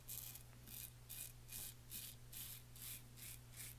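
A Parker 48R gold heavyweight safety razor scrapes through heavy beard stubble along the neckline in quick, even strokes. About nine crisp, scratchy passes come in a steady rhythm, close up but quiet.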